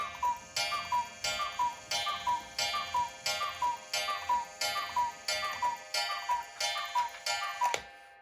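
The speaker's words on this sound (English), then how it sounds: "That just cuckooed a lot of times" A cuckoo clock sounds its two-note call over and over, roughly a dozen evenly spaced calls close by. Each call comes with a soft mechanical click, and the repeats stop abruptly with a final clunk.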